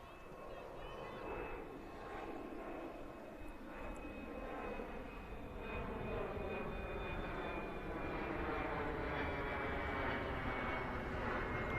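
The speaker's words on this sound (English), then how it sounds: "PSN private jet making an appearance overhead." A private jet passes overhead during a baseball game, a steady broad engine roar that slowly swells louder across the stretch, heard alone with no talk.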